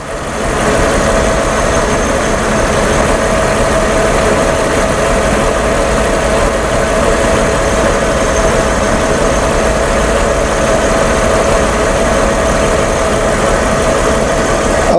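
A 1997 Mercedes-Benz E320 idles with a misfire, its engine running steadily and loudly up close for the whole stretch, with a constant mechanical drone and no talk.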